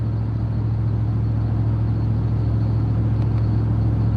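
Steady low rumble inside a moving car, a constant engine and road drone with a faint hum above it, even and unbroken throughout.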